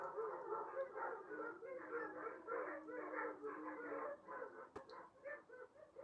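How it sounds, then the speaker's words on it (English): A crowd of dogs somewhere in the distance, barking and howling together in a long overlapping chorus with yips and wavering howls, moderately loud and continuous, with no talk over it. "Y'all hear all those dogs?"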